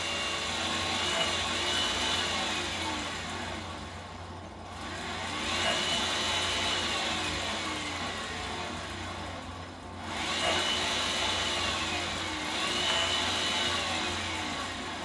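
The motor of a repaired electric bicycle runs with a steady whirring drone like a small vacuum cleaner. It eases off briefly twice, then comes back up, and no one speaks over it.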